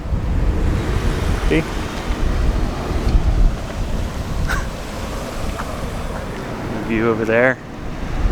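Gusty wind buffets the microphone in a constant low roar on Trail Ridge Road, a mountain road in Colorado, with a couple of brief spoken remarks over it.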